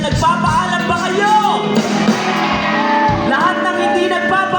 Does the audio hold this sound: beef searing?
no